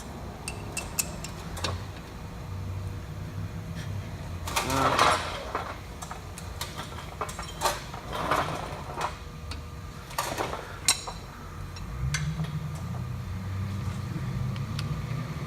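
A 3/8 ratchet tightens new brake caliper bolts on a 2007–2013 Mercedes C300, rapid clicking runs interspersed with metallic knocks and tool handling, close and moderately loud.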